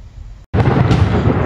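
Thunder from a storm in a video game cracks in loud and close after a split second of silence, then keeps up a heavy, sustained rumble.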